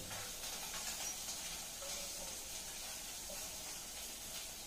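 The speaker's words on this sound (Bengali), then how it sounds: "এবার এক এক করে মাছ দিয়ে ভেজে নেবো দু পিঠ দিয়েই।" Fish pieces fry in mustard oil in a wok, a quiet, steady sizzling hiss that continues evenly throughout without talk.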